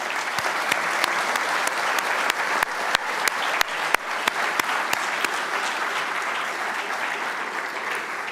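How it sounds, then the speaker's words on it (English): Loud, sustained audience applause at a College Possible Chicago gala, a dense steady wash of many hands clapping with a few sharper individual claps standing out, no talk over it. "give a loud round of applause for everyone"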